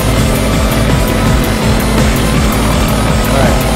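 A helicopter in the game Garry's Mod during a tornado scenario, a loud continuous rotor and engine roar with rhythmic blade chop filling the whole stretch.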